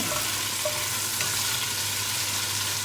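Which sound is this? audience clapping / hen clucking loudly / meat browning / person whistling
meat browning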